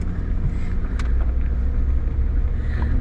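A vehicle creeps in reverse on a summertime scouting drive for velvet bucks, its engine a steady, close low rumble with faint road noise and no talking.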